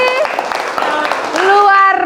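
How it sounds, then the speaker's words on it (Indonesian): Schoolchildren in an Indonesian classroom clap together in a steady patter, partly buried under their own loud, sustained shouting and cheering voices. "Tepuk tangan untuk kita semua"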